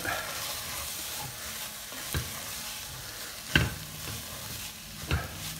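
Octopus pieces tossed into a pan with sweated aromatics for a spicy sauce, sizzling steadily as they are stirred, with a few louder scrapes and clunks of the spoon against the pan at intervals.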